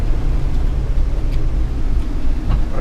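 A 2015 Mercedes-Benz turbo diesel Forest River Solera 24D Class C RV accelerates, its engine and road noise forming a loud, steady low rumble heard from inside the cab.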